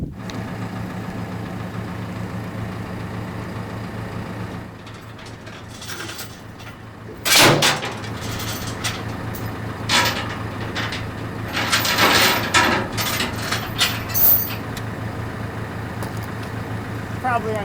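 Engine of a forklift-type machine idling steadily close by as it lifts a large homemade bandsaw mill in a backyard, with clanks and knocks bursting in over the hum and a person speaking at times.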